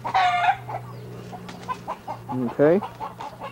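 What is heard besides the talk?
chickens clucking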